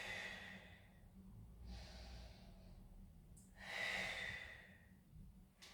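Slow breaths in and out during a Pilates exercise, soft and close, with three or four airy rushes spaced a second or two apart over quiet room tone.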